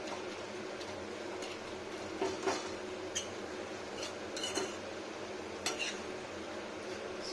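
Fenugreek greens stirred and turned in a pan on a stove: a soft continuous sizzle with occasional light clinks and scrapes of a utensil against the pan, quiet and close.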